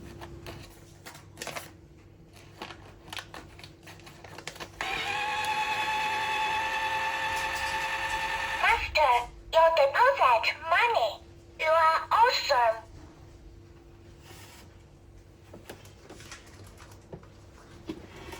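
A Robot Bodyguard money box safe with code lock and clock runs a motorized whir for a few seconds as a banknote is drawn in, followed by chirpy electronic beeps and tones, with faint handling noises.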